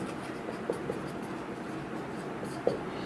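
Chalk or marker writes an equation on a classroom board, giving quiet scratching strokes with a few sharper taps against a faint room hiss, no voice over it.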